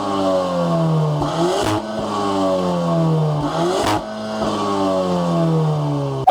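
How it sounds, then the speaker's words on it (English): Revs from a 2022 Volkswagen Tiguan R with quad exhausts, heard while stationary: two sharp throttle blips that rise and fall back to a steady idle, loud and close. "Down the bottom, you get quad exhausts. And I mean, stationary, they sound awful."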